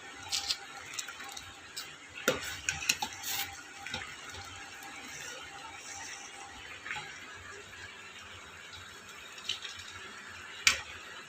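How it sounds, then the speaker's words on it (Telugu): Vermicelli and sago pearls bubbling in a pot for semiya payasam, a soft steady simmer with scattered wet pops and small clinks throughout. "సేమియా ఉడుకుతుంది ఫ్రెండ్స్, సగ్గుబియ్యం కూడా ఉడుకుతుంది."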